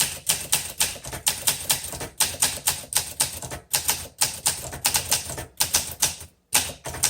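Typing on a 1962 Olympia SM5 manual typewriter: crisp, rapid keystrokes clacking in quick irregular runs with short gaps, close and loud, with no talking.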